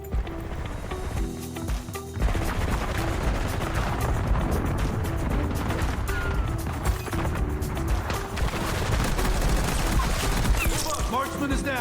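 XM4 assault rifle fire in Black Ops 6 rattles in sustained, rapid bursts across most of the stretch, loud and close over busy game noise, with brief talk mixed in.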